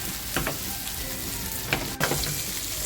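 Silver barfish frying in masala oil in a pan, gently moved with a spatula: a continuous crackling sizzle with a few light scraping strokes, close by.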